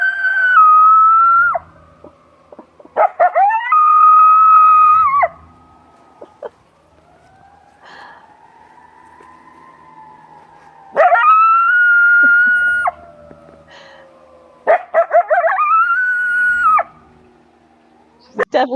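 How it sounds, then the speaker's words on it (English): A captive female coyote gives long rising and falling howls broken by yips and wavering cries, loud and close, separated by quieter stretches. "one of our ambassadors, Miss Brawley, showing you those vocalizations."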